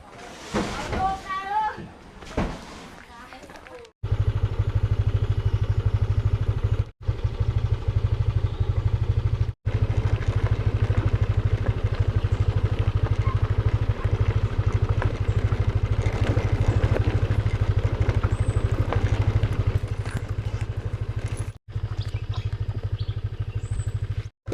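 Scooter engines run loud and close with a steady idling drone, broken by a few short cutoffs. Faint talk sits underneath.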